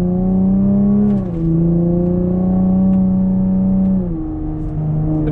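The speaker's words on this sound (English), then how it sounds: "The V6 sounds good. Pretty loud." V6 car engine and exhaust heard from inside while driving in touring mode, a steady loud drone that rises and dips between gear changes, with no talking.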